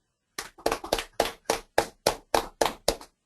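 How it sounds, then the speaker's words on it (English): Sparse, separate hand claps from a small online class cheering correct answers in a GRE quant session, about a dozen evenly spaced sharp claps, close and fairly loud, with no talking. "Okay, a round of applause to everyone who said 65."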